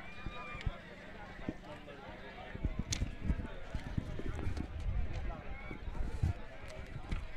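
Rapid drumming hoofbeats of bullocks running in a bullock cart race thunder over a noisy outdoor crowd and loudspeaker commentary, with scattered shouts throughout.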